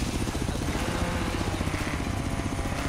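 Helicopter hovering overhead in Forza Horizon 3, a racing video game, on a beach, a loud steady rotor thump and engine drone continuing unbroken throughout without voices.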